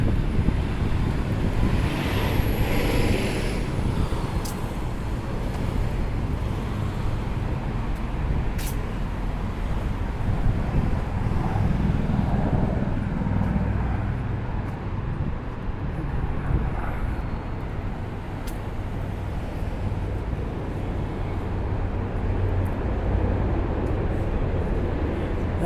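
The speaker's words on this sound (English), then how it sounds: "That's a helicopter going right close to the water." A steady low rumble of a helicopter passing close over the water downtown rises and holds through the stretch, with broadband roar and some background traffic-like noise.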